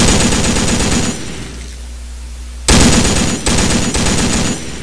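Rapid automatic gunfire from the online shooter Sudden Attack, loud and close, in two dense bursts separated by a quieter gap with a low hum.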